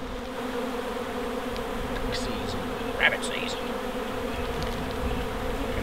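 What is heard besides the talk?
wild honey bee swarm buzzing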